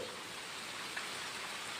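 Steady rain hisses continuously at a low level, an even wash of falling drops with no other sounds standing out.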